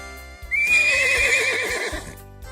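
A horse gives one clear, wavering whinny lasting over a second, sounding loud and close over soft background music.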